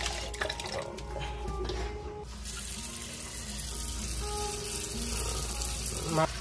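Tap water runs into a sink as spices are rinsed by hand, a steady splashing flow with faint clinks, close and moderately loud, with no talking.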